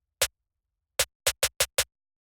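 Sharp, dry snare hits: one alone, then a pause and five quick strikes in a row, short and crisp.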